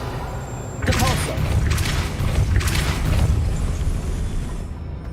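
A Depulso force spell cast in the Hogwarts Legacy video game lands as a loud booming blast with a rumbling low burst and crackling tail, repeated in a few surges over a steady game background.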